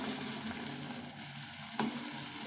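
Pea kachoris frying in oil in a kadai give a soft, continuous sizzle with a single brief clink partway through.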